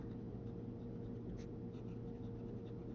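A Jinhao 82 fountain pen with a fine stainless steel nib writes on paper, producing faint, close scratching strokes beneath a steady low background hum, with no speech.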